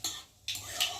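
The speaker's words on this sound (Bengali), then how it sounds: "একটু ভালো করে নাড়াচাড়া দেবো" A utensil stirs dried red chilli and nigella seeds in a hot pan for potol korma, giving two short bursts of soft scraping and clinking, close and fairly quiet.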